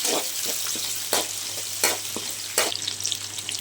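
Curry leaves and other ingredients fry in a pan for a South Indian breakfast and lunch dish, with steady close sizzling broken by several sharp scrapes and knocks of stirring.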